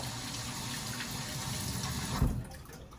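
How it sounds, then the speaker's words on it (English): Tap water runs steadily into a sink while a hand is rinsed under it, a continuous close gush with a short splash near the end. "Rinse off my hand"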